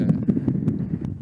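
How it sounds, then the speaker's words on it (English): Wind blowing across an open plain on an African safari, a continuous low rumbling buffet against the microphone with small gusty surges throughout. "Rather windy."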